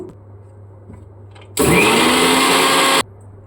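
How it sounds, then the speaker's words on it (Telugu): Mixer grinder blending buttermilk with salt and water: after a quiet moment, the motor kicks in abruptly with a loud, steady high-pitched whirr lasting about a second and a half, then cuts off sharply. "మిక్సీ పట్టుకుందాము."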